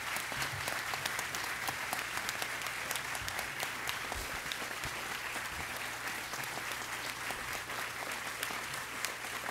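A large audience at a university pharmacy school ceremony applauds steadily and densely for about nine seconds, welcoming a speaker to the stage, with a faint low hum underneath.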